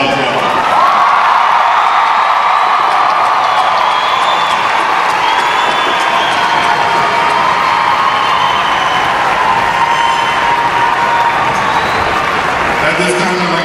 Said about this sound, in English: Ladies and gentlemen, one more round of applause for class of 2012.